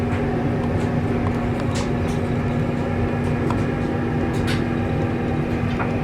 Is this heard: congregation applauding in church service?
no